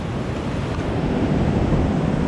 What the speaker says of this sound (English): There's some pumping waves.